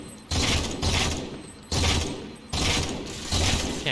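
Gunfire in the Halo 4 campaign, several bursts of rapid automatic shots in quick succession with short gaps between them, loud and close.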